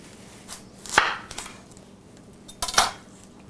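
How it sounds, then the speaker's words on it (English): A knife cutting an onion down the middle on a board, giving two distinct sharp chops with lighter taps and handling noises between them. "I cut off both ends of the onion. And I go right down the middle."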